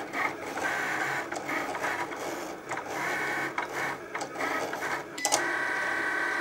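A Cricut Explore cutting machine cuts cardstock on its mat with a steady motorized whir, stuttering carriage moves and small clicks, heard close and alone.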